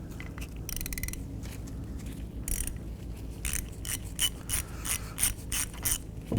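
A ratchet fitted with a 17mm socket loosens the caliper bracket bolts on a 2007-2013 Acura MDX front brake, heard as bursts of quick close clicking between pauses.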